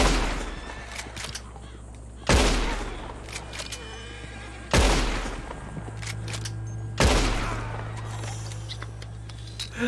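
Three sharp rifle shots in Red Dead Redemption, spaced a couple of seconds apart, each a loud close crack with a ringing tail over a low steady background of wind and ambience.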